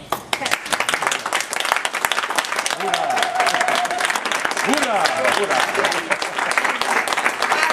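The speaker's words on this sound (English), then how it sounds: "Please, a big clap for her." A conference audience breaks into sustained applause, dense clapping filling the room at steady loudness, with a voice talking over it partway through.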